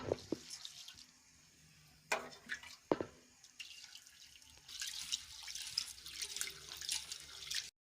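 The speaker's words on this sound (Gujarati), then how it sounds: "એમાંથી આપણે ગરમ પાણી લઈને દાળ ધોઈ નાખીએ" Moong dal being washed in hot water, with intermittent splashes, trickles and drips as the water is poured and swirled, close and fairly quiet with no talk.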